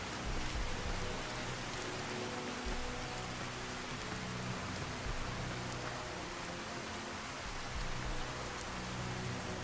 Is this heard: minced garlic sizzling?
no